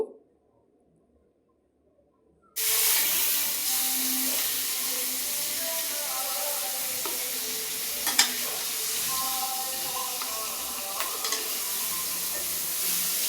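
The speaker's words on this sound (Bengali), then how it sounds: "তো আমি এখন শুকনা মরিচ ভেজে নেব।" Steady crackling sizzle of dried chillies frying in a hot pan starts abruptly after a short silence, with occasional sharper pops and scrapes.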